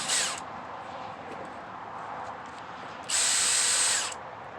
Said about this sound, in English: drill driver, DCD 701